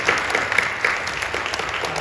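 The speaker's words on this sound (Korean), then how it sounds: "박수로 격려해 주시고 고맙습니다." A church congregation at a Friday night prayer service applauds steadily, a dense wash of clapping that holds evenly and fairly loud throughout.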